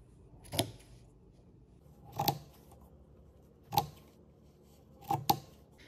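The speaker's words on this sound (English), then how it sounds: "When I put my scissors against the edge of the hoop, it just gives me a gauge of how far in to cut." Scissors trim felt around an embroidery hoop in four crisp, close snips spaced about one to two seconds apart, the last one doubled, against a quiet room.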